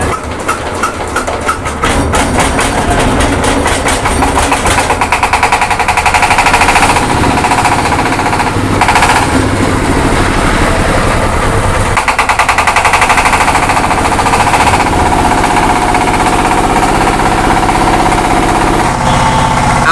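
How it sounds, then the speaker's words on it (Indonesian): A feed-mixing machine blending cattle feed for pregnant breeding cows, with wheat bran and ground corn, runs loud and close. Its dense, rapid mechanical clatter and roar continue steadily throughout, with no talking. "mesin silahkan dinyalakan"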